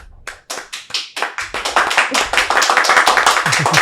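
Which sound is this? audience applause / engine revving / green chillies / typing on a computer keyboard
audience applause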